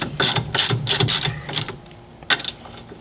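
A ratchet clicks in quick bursts while loosening a 19mm control arm nut on a BMW E30 suspension, about six rapid sweeps close up, then a brief pause before a last short burst.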